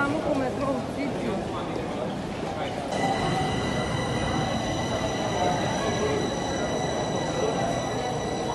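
Subway train in a crowded metro station during a heatwave, a steady loud rumble with high squealing tones from about three seconds on, people talking over it.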